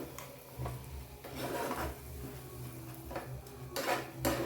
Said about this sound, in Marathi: पुन्हा हे सगळं एकजीव करून घ्यायचं